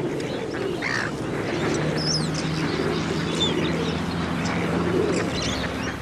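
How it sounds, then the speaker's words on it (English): Hundreds of waterfowl gathered at a sanctuary feeding spot, ducks quacking and geese honking in an overlapping steady chorus with scattered higher bird calls throughout. "hundreds of waterfowl gather at this spot and wait for their regular feeding session"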